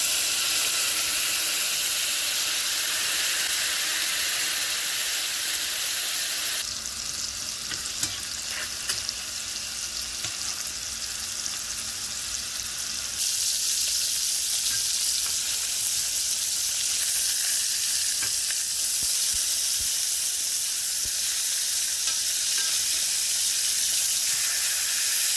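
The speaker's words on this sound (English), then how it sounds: "now I'm going to add some pomegranate red wine vinegar to my steak." Steak sears in a pan as pomegranate red wine vinegar is poured in, a loud, steady hissing sizzle that flares up sharply partway through, holds for several seconds, then settles back into constant frying.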